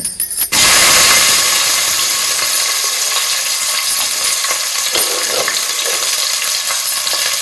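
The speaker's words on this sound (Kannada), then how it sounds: "ಇದನ್ನ ಒಂದ್ಸತಿ ಶಾಲೋ ಫ್ರೈ ಮಾಡ್ಕೊಳ್ಳೋಣ" Sliced onions shallow-frying in oil in a pan for a spinach palak pulao, a loud steady sizzle that starts abruptly after a brief muffled clatter and holds close and continuous with faint scraping, no voices.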